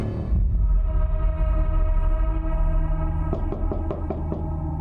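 A handful of sharp knocks strike a door in a crime drama scene, clustered near the end and loud over a steady low hum that fills the background.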